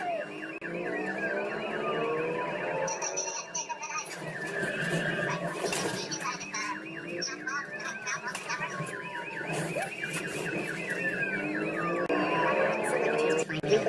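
Several police car sirens wail together during a car chase, their rising and falling tones overlapping loudly and continuously for the whole stretch with no pause.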